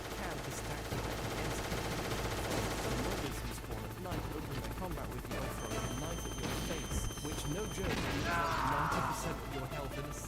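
Gunfire in the Metal Gear Solid 3 video game is aimed at the player as rapid, repeated machine-gun-style bursts. The shots come through a busy, continuous mix of other game sounds.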